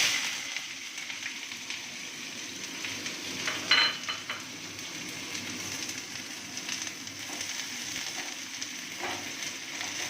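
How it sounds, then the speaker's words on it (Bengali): Chopped onion added to a hot pan after black cumin seeds are tempered, for a Bengali fish-egg dish, giving a steady close sizzle of frying with a brief louder crackle burst near the start and no talk. "এরপরে আমি কেটে রাখা পেঁয়াজটা দিয়ে দেবো।"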